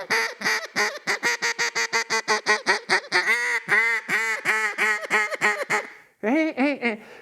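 A hen mallard imitation blown on an ICU2 double reed duck call: a long, rapid run of nasal, whiny quacks, close and loud, speeding into a rolling chatter before a brief pause and a final short burst.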